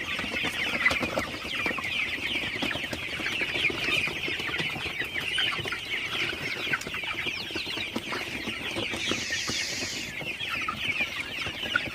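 Golden super hybrid chickens at night, a dense, steady chorus of soft clucks and chirps filling the whole stretch at moderate loudness, with no voices.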